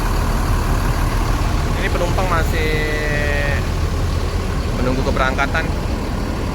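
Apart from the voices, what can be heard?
Mercedes-Benz 1626 bus engine idling with close exhaust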